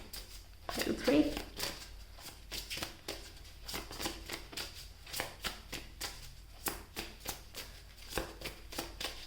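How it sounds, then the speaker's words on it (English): Tarot cards are shuffled close up in a steady run of crisp riffling and slapping bursts, repeating roughly every half second, with someone talking quietly in the background. "I did not ask, I was just shuffling."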